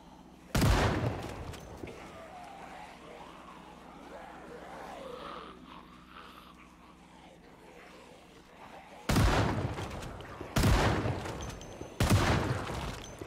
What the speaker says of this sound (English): I suppose I didn't ask Cinnamon if I could use this shotgun.